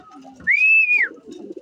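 A racing pigeon comes in to the loft at the end of a 383 km derby race, marked by one clear rising-and-falling whistle-like sweep close by, with soft low rustling and shuffling before and after.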